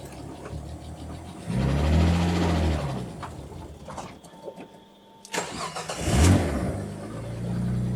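Ford Anglia engine turning over and catching, running roughly with a couple of surging revs, a brief near-silent stall-like dip, then firing again and idling unevenly; close and fairly loud, with no talking.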